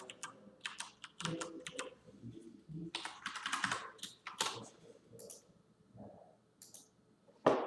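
Fingers type a login password on a computer keyboard in quiet, irregular bursts of close clicks and key taps, with short pauses between groups of keystrokes.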